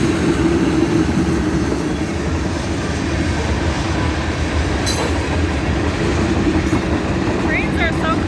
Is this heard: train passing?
yes